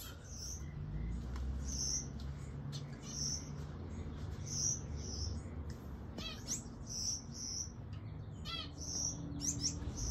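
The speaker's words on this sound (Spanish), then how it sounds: "aquí les voy a compartir un poco del aviario de mis pajaritos" Exotic pet birds in an outdoor aviary give repeated bright chirps and short tweets in scattered bursts over a steady low background rumble, fairly close and clear.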